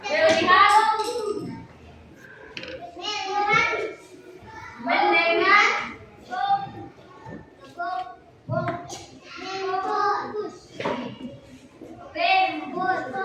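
Schoolchildren in an elementary classroom chant the rhythmic 'tepuk fokus' clapping routine together, their voices rising and falling in a sung pattern over scattered hand claps, close and fairly loud throughout.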